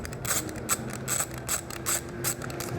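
An 8mm socket ratchet loosening a part on a Triumph Bonneville T100 motorcycle, a rapid close clicking of the pawl in about seven regular bursts.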